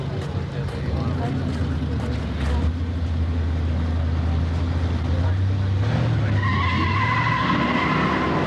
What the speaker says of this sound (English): Stock car going down the 1320